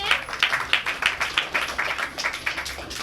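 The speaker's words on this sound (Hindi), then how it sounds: "हम ताली बजाएंगे।" People clap their hands together in a steady, brisk rhythm of about three claps per second at a worship gathering, sharp and close with little else behind it.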